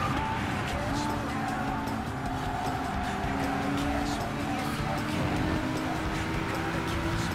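Steady, loud engine drone of a Volkswagen VGT Group 3 race car in Gran Turismo Sport, with shifting engine pitch and faint tire noise running throughout, no talking.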